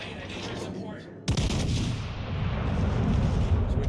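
Warship guns firing HE shells in World of Warships Legends, a sudden loud salvo boom after a quieter stretch, followed by sustained rumbling gunfire and battle noise.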